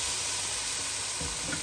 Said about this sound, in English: So right now this is the egusi frying.